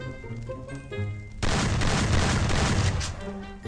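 A shotgun firing in the shooter game Free Fire, a sudden loud burst that turns into dense, sustained rattling gunfire and fills most of the clip.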